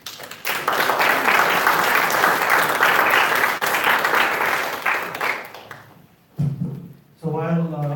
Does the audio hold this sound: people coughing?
no